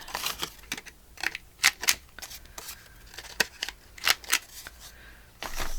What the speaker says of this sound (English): And then we're going to cut this at a 1/4 inch round all the way around.